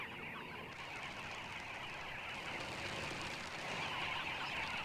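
A dense flock of dozens of birds bustles at an African waterhole, with constant overlapping chatter and calls at a moderate distance, steady throughout with no talking.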